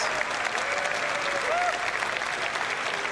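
Steady crowd applause during a live CitizenCon 2024 event stream, continuous and fairly even for the whole stretch, with a faint voice mixed underneath.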